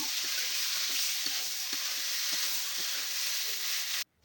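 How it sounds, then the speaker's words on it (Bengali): Potatoes and cauliflower frying with chilli and turmeric powder in a pan, a steady close sizzle and hiss with faint stirring taps, cutting off abruptly near the end. "আমি কিছুক্ষণ ধরে একটু ভেজে নিচ্ছি"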